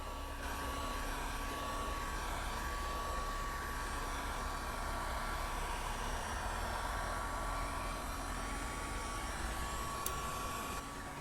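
Continuous steady blowing whir of a heat gun warming material as it is bent for a Boba Fett vambrace, faint and unchanging throughout with a thin whine, no talking.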